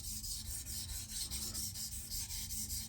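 A steel blade scrapes steadily over a coarse, low-grit natural whetstone wet with slurry, a continuous gritty rasping in regular back-and-forth strokes, close and fairly quiet with no voices.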